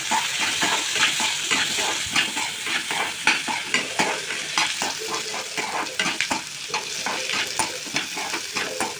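Onions sizzle and crackle steadily in a hot pan while cooking rajma gravy, with occasional stirring scrapes, loud and close throughout.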